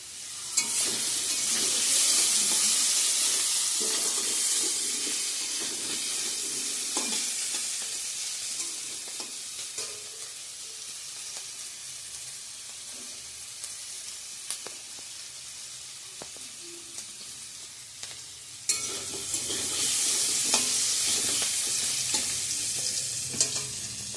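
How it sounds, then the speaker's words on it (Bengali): Potatoes fry with a steady sizzle in a pan, stirred now and then with scraping clinks, the frying loud and continuous throughout with a brief drop before it swells again near the end. "এদিকে আলু ভাজা করে নিচ্ছি"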